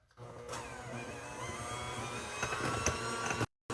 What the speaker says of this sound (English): this is really a hand mixer